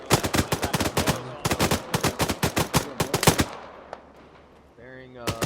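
Machine gun fire on command during a field training exercise: rapid, loud, close bursts of evenly spaced shots that stop abruptly, followed by quieter background and a brief voice.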